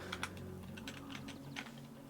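Rapid typing on a computer keyboard, a close, steady patter of key clicks lasting about two seconds with no voice over it.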